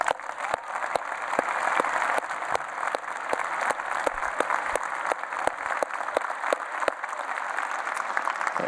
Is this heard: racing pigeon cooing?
no